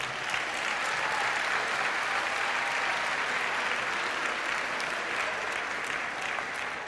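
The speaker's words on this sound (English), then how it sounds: "Let's give them a round of applause." An audience at a college commencement applauds the standing graduates, the clapping a dense, even roar that carries on steadily without pause.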